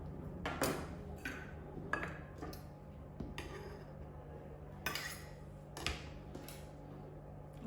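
Small spoon scraping and clinking against halved passion fruit and a bowl while the seeds are scooped out for a pavlova, a few light scrapes and taps over a steady low background hum.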